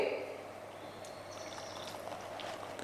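Water poured into a mixed-vegetable batter for crispy dhirde, a faint, steady trickle that runs for a few seconds with no talking.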